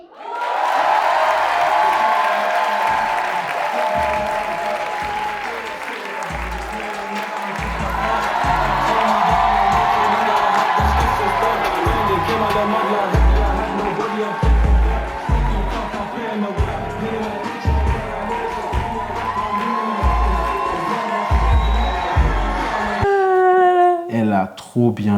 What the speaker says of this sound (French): Mesdames et messieurs, sous vos applaudissements, Loïc Clerget.